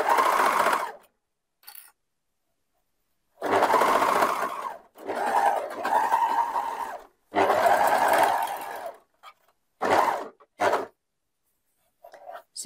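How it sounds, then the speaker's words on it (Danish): An overlock serger threaded with four threads and two needles, stitch length 2.5, runs a shoulder seam on a girl's dress in several loud whirring bursts of a few seconds each, separated by pauses and short stops. "Den første skuldersøm syr jeg fra side til side hele vejen over."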